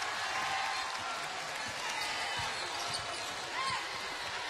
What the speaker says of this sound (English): Ty Marshall handling the ball for Georgia Tech.